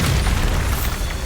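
Hogwarts Legacy's Bombarda spell detonates in a loud, booming blast with a heavy low rumble and crackling debris, short and close, with no talking.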